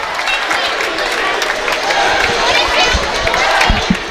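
Crowd cheering and clapping in a gym during a Yeshiva University Macs college basketball game against St. Joseph's-Long Island, a loud steady roar of voices with scattered claps and sneaker squeaks.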